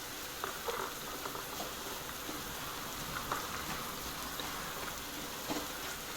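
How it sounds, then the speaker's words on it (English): Rain falling steadily outdoors at a forest campsite, a broad continuous hiss with scattered soft patters of drops, fairly close and even throughout with no voices. "and it starts to rain."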